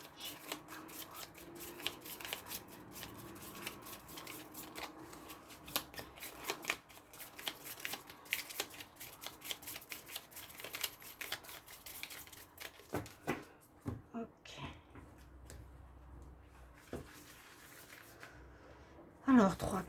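Tarot cards being handled and shuffled close up in a quiet room, a steady run of papery riffles and soft slaps that thins out toward the end, with a brief sharp knock at the close.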